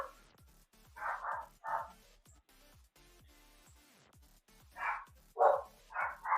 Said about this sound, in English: I don't know if you guys can hear the barking in the background.